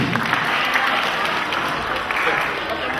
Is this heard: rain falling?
no